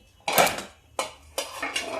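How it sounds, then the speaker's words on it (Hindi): A metal tawa, a flat griddle pan, is set onto a stove with a few clanking metallic knocks and scrapes, close and fairly loud, in three short bursts. "यहाँ पे तवा चढ़ा लेती हूँ।"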